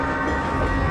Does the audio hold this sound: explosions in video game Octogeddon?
no